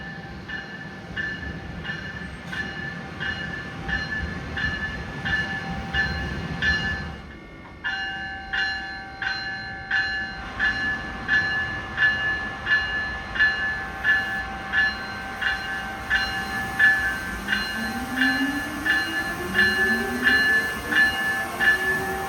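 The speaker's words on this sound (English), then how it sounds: "Northeast Regional 129 making a stop here at Princeton Junction. An ACS 64 at both ends." Amtrak Northeast Regional train with an ACS-64 locomotive at each end stopped at Princeton Junction station, with steady rhythmic ringing bell tones and a low rumble, then rising electric motor whine as it pulls away, fairly distant.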